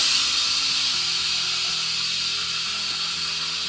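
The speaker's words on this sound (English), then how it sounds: "you can use a funnel to depressurize, and that means that the steam will be redirected" Steam hisses steadily from the release valve of a Crockpot Express pressure cooker during depressurizing after cooking rice, a loud, continuous, even rush of vapor with a faint low hum beneath.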